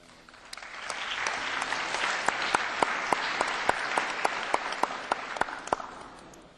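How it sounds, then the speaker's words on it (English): A large audience in the European Parliament bursts into sustained applause, a dense, even wash of clapping that builds and holds for several seconds, with a few sharp, loud claps standing out rhythmically near the microphone. "Vous applaudissez quand un de vos camarades intervient, vous applaudissez quand un rapporteur répond."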